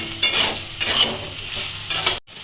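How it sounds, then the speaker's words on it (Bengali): Onion frying with a ginger, garlic and cumin masala paste and red chilli powder, stirred in a pan for khichuri: loud close sizzling with repeated scraping stir strokes, then a brief drop to near silence at the end. "পেঁয়াজের সাথে মশলাটা একটু ভালো করে ভাজা ভাজা করে নেব।"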